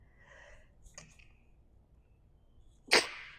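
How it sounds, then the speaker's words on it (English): During a yoga session, a couple of soft breathy inhales build up, then one sharp, loud allergy sneeze bursts out near the end. "Oh, I might have to sneeze."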